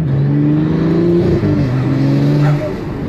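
A Pagani Utopia supercar accelerates hard, its engine note climbing through a gear change as it pulls. The sound is loud and close, like from inside the cabin, with no talk over it.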